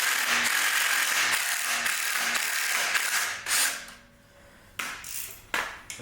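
A ratchet wrench clicks in quick repeated strokes while loosening an engine pulley during an engine swap, close and clear, then pauses before a few short final bursts of clicking.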